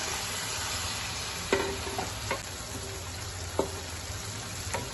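Garlic, ginger and onion paste fries in a pot for achari karahi, a low steady sizzle and hiss with a few sharp clinks of a spoon against the metal.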